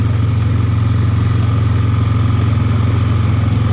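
A 2009 Honda Rancher four-wheel-drive ATV runs on a farm, its engine a loud, close, steady throbbing drone with an even pulsing rhythm and no breaks.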